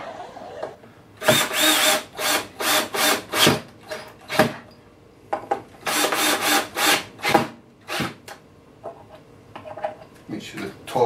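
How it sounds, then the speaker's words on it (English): A power drill drives screws into a Fender-style P-Bass body in a workshop, firing in two clusters of short, loud whirring bursts separated by brief pauses. "Make sure the torque control on the drill is okay."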